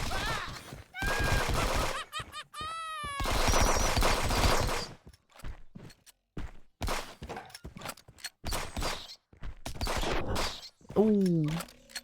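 Video game gunfire in bursts, with loud rapid volleys broken by short gaps and mixed with game sound effects and voices.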